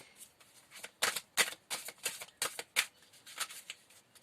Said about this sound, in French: On va bien remélanger pour être sûr de ne pas avoir les mêmes messages.